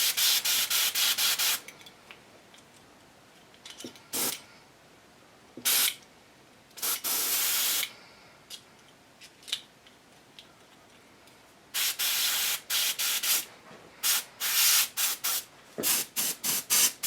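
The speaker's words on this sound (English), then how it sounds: "here's pearl white, and basically I have to use the larger airbrush for it" A larger airbrush sprays pearl white paint onto a garage kit bust, sounding as repeated loud hissing bursts of varying length separated by short quiet pauses.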